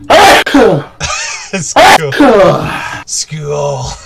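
A single loud, sharp sneeze bursts out close to the microphone amid people chatting during a Phasmophobia game session, with other voices and brief vocal noises around it.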